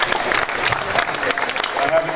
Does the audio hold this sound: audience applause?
yes